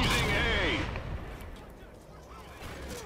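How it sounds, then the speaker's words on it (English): Gunfire in Call of Duty Ghosts, a loud burst of shots at the start that fades into a duller background of distant firing, with voices talking over the game. "Somebody shot at me."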